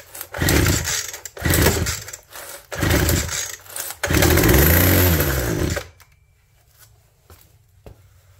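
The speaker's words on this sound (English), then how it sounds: "All right, we got a runner again." An abandoned hedge trimmer's small two-stroke engine fires in a few short rising bursts, then catches and revs loudly for a couple of seconds before cutting out, leaving near silence.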